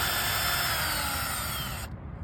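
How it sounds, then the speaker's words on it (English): A power drill whines steadily while boring holes to install a backyard pull-up bar, loud and close, with the motor cutting off near the end to leave a low rumble. "that drill bit will get very hot because of the friction"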